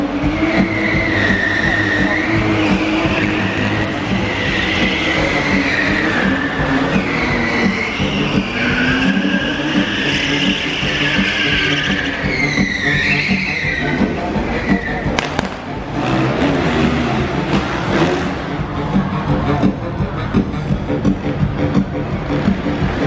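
Cars drive and skid during a live Crazy Cops New York stunt show at Movie Park Germany, with loud engine roar and high tire squeals sweeping up and down, plus crowd and venue noise.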